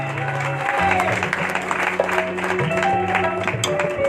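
Audience at a devotional kirtan gathering claps steadily to welcome a guest, a continuous patter of applause layered over sustained instrumental music, fairly close and even in loudness throughout.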